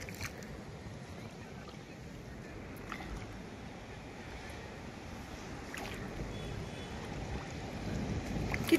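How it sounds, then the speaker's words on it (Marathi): A boat moves along a river with a low, steady rumble of water and wind against the hull that builds slightly toward the end, while people talk faintly nearby. "तर आपण बसलेलो आहे बोटीमध्ये"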